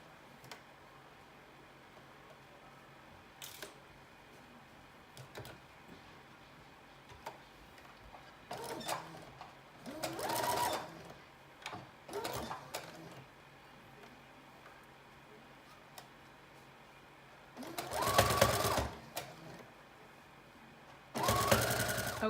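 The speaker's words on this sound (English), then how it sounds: "So we're gonna go ahead and just stitch straight." Sewing machine running straight seams through stretch fabric for a mermaid prom dress, heard as several separate bursts of steady motor whir, the longest and loudest near the end, with quiet handling sounds in between.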